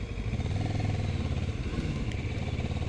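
A Kawasaki Z900 motorcycle being ridden, its engine droning steadily with wind rush, loud and continuous.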